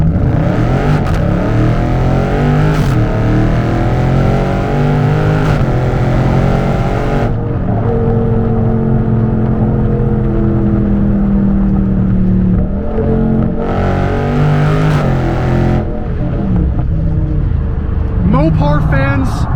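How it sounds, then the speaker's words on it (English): A loud 500-horsepower 2021 Dodge Charger Scat Pack Widebody roars and revs hard in a hard launch, pitch climbing through several gear changes as it accelerates, with a voice briefly audible over it. "we got another opportunity to do a hard launch in this thing"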